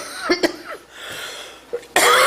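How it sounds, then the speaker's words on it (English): Several harsh coughs, a pair early, another burst midway, then a loud rough hacking cough at the end, close to the listener at a town board meeting. "Hacking and coughing."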